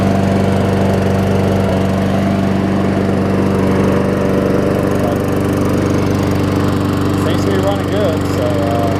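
A Toro self-propelled lawn mower with a Tecumseh engine runs steadily and loud close by, a constant droning hum with no pauses and no talk over it.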